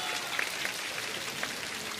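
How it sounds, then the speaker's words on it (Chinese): An audience at a televised singing show applauds a duo, a dense steady clatter of clapping lasting the whole moment, no talk. "我们再次把掌声送给二位，给我们带来这么开心的一场秀哈。"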